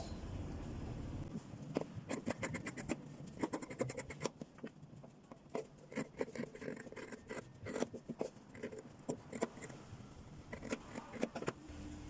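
Scissors snip through fabric while cutting out a baby girl's dress, a quiet series of short crisp cuts and scraping strokes in irregular bursts, close and faint.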